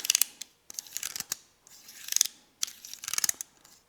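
AVE Skookum utility knife blade sliding back and forth, giving three bursts of rapid, close mechanical clicks and ratcheting as it passes its detents, with no voices.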